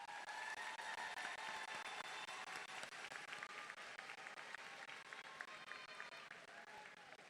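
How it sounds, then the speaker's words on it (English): An audience at a high school graduation claps steadily, a dense wash of many hands sustained throughout with a slight fade toward the end, with faint crowd murmur mixed in. "Let's give these students a round of applause."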